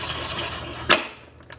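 A Hornady Cam Lock case trimmer cutting 450 Bushmaster brass, a close, steady grinding scrape that ends in a sharp metallic click, followed by a couple of faint light taps.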